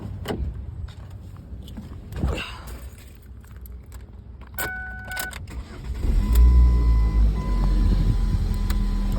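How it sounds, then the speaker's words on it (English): A car is started after a few clicks and interior sounds, the engine catching partway through and settling into a steady low idle with a faint chime tone above it. "I'm gonna try to start the car"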